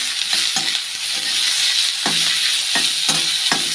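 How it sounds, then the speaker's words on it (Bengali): Onion frying in oil with black cumin, a steady broadband sizzle with several sharp scraping stirs of a spatula against the pan, close and loud, no talk. "পেঁয়াজটা ভেজে নিচ্ছি"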